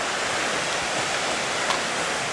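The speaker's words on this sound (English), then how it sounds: "There's the waterfall again on a different angle, but wow, that is just spectacular." Steady, full roar of a waterfall at Silver Falls State Park in Oregon, loud and unbroken broadband rushing water with no voices.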